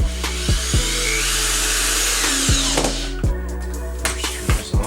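A power drill drives a self-tapping screw while fitting a side strake and side splitter onto a car. The motor whines steadily under load, several sharp clicks and knocks punctuate it, and the drill winds down near the end.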